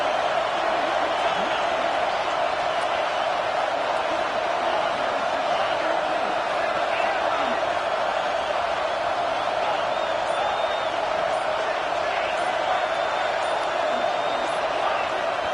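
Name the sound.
stadium crowd roaring in college football video game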